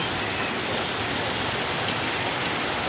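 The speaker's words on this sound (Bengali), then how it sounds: "তাই এইরকম বৃষ্টি হচ্ছে" Steady, dense downpour of heavy rain in Jaipur, Rajasthan, a continuous broadband hiss of drops pounding surfaces, loud and unbroken throughout with no voices.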